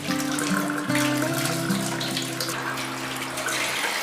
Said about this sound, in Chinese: 我们将这些鸭蛋都洗干净